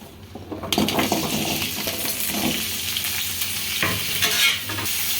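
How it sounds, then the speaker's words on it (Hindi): Potatoes hit a small amount of hot mustard oil in a wok, and a quiet hiss jumps to a loud, steady sizzle, with stirring scrapes and light metallic clinks of a utensil against the pan. "आलू फ्राई करने के लिए फिर से डालेंगे सरसों का तेल, बहुत ही कम, और कढ़ाई गर्मी है तो अभी हम इसमें डाल देते हैं आलू"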